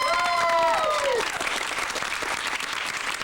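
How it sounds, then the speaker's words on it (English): An audience at an outdoor theme park show bursts into loud, dense applause and crowd noise, following a short held musical flourish, clapping sustained to the end. "And the crowd went wild."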